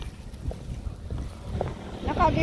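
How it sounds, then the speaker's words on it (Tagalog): Steady wind buffets the microphone with low rumbling gusts on a hot day, a breezy outdoor roar that grows a little stronger toward the end. "Mainit na mahangin po dito sa lugar namin."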